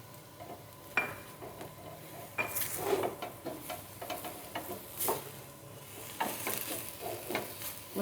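Samosa potato filling is stirred in a pan, repeated spatula scrapes and knocks in an uneven rhythm over a light sizzle, close by with no talking.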